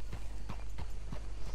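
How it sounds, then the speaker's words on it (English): Hooves of a black chestnut thoroughbred horse clip-clop at a steady walking rhythm in Red Dead Redemption 2, near a swampy plantation area outside Saint Denis, about five evenly spaced hoof strikes, close and clear with no talking. "My horse is a thoroughbred, and it is the black chestnut, I believe."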